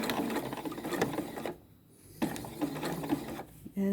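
A sewing machine stitches over a fabric seam edge when sewing a drawstring bag, a rapid mechanical whirr that runs close, pauses briefly, then resumes, with no talking.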